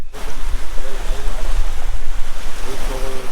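Water flows and laps near Rwanda's volcanic twin lakes around Ruhengeri, a close, loud, rushing wash with wind on the microphone, and a person talks over it.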